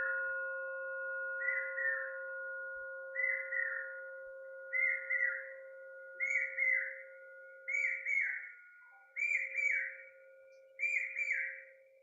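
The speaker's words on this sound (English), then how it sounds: "I hope you can hear the bird from Dehradun" A bird outside in Dehradun repeats a short whistled phrase about every second and a half, fairly faint, over a steady humming tone.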